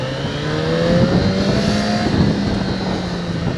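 A Yamaha FZ6R inline-four motorcycle engine with stock exhaust hums steadily nearby, its exhaust note rising slightly in pitch as it revs, with a smooth continuous drone throughout.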